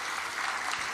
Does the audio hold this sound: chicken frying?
no